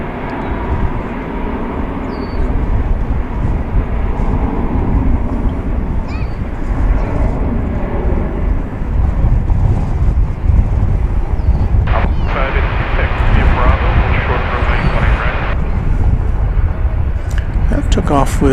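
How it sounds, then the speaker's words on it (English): An airliner takes off at DFW Airport, its deep engine rumble building to a loud, sustained roar, with a commentator talking over it most of the way. "that was a snappy takeoff"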